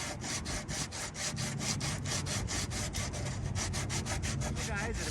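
Bondo body filler being sanded smooth on a Jeep TJ body in a garage, a loud, steady rhythm of rasping back-and-forth strokes close by, with no speech over it.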